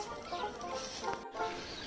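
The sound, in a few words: hens clucking in the garden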